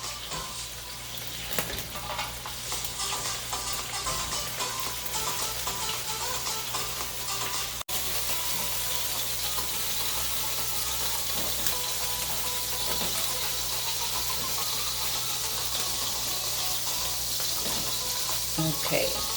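Shrimp frying in a pan for keto fried rice, a loud steady hiss and crackle with bursts of rattling and scraping as they are tossed, one brief sharp knock midway.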